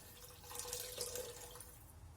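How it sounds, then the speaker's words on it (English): Homemade beef broth pours into a pot, a faint, steady liquid trickle with a soft splashing rise midway, quiet and close. "I'm going to add some more beef broth to it"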